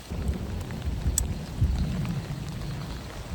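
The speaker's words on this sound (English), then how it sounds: "it's booming and raining, so we're gonna head back to the cars right now" Rain with low rumbling thunder in open Florida prairie, a steady wash of falling drops over deep booming low-end, fairly loud and continuous with no talking.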